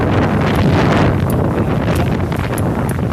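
Strong wind roars steadily across the microphone, a constant heavy rush with gusty buffeting and no voices.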